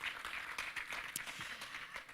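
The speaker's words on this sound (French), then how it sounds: "Vraiment, je crois que ça mérite plus d'applaudissements." Conference audience at a business forum in Abidjan applauding, with steady, dense, somewhat distant clapping that stays fairly faint throughout and no clear voices.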